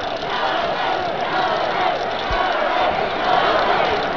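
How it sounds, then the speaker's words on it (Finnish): A large crowd of spectators at a Planica ski jumping event in 2005 cheers and shouts in a loud, continuous roar, with a commentator speaking over the din. "Yleisö kannustaa ja huutaa täällä Jannea"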